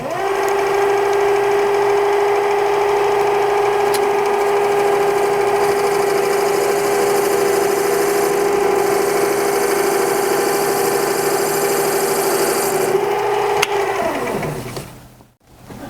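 A lathe faces off and bevels the end of a telescopic strut for bike panniers, giving a loud continuous motor whine with cutting noise that holds steady before spinning down at the end.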